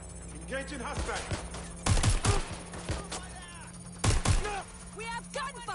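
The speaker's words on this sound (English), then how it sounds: "We have gunfire!" Gunfire in the video game Watch Dogs: Legion, two loud bursts of rapid shots near two and four seconds, with game voices and sounds between them.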